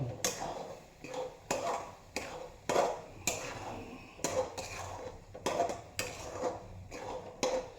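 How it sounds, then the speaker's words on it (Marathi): Spice mixture being stirred and sautéed in a pan, with a metal utensil scraping and tapping the pan in an uneven rhythm of close, clattering strokes, with no voices. "हे मिश्रण आपण काय करणार आहोत पुन्हा परतवणार आहोत"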